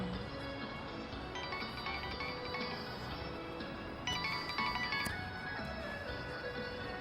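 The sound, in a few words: phone ringtone before call is answered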